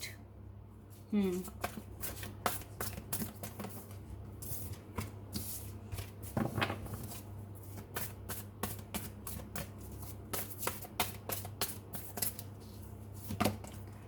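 Tarot cards are shuffled and drawn in a series of quick, crisp riffles and flicks with soft taps, fairly close and at modest volume, with a faint steady hum beneath and a voice talking at moments.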